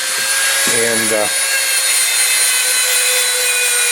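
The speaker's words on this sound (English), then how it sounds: "the Dremel takes out most of the corrosion that we have on this" Dremel rotary tool grinding corrosion off an old Tootsietoys metal toy: a loud, steady high-pitched whine throughout, with a brief rougher buzzing contact near the start.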